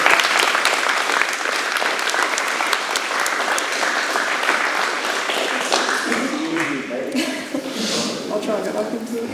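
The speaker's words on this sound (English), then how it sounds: "So we'll give Katie, give her a round of applause." Applause for Katie at a martial arts school anniversary seminar and belt promotion, a full crowd clapping steadily before it thins out, with voices and chatter rising as it fades.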